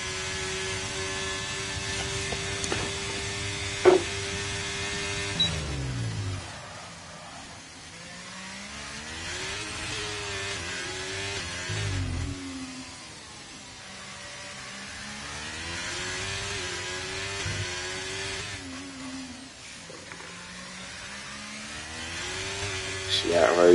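Race car engine on a hot lap in a racing video game at the USA GP, rising and falling through repeated revs and shifts, with a commentator talking over it.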